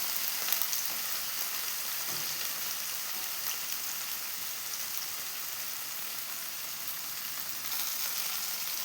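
Masala-coated mackerel (ayala) frying in a pan, a steady close sizzle of hot oil with fine crackling throughout and a few faint clinks, no voices.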